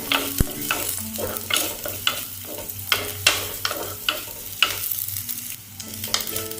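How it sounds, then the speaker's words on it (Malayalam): Chopped onions sauté in coconut oil with fenugreek seeds for a tapioca and fish curry, a steady sizzle broken by repeated scraping stirs of a spoon against the pan, close and moderately loud with no talking. "ഇതൊന്ന് നന്നായി വഴറ്റിയെടുക്കണം."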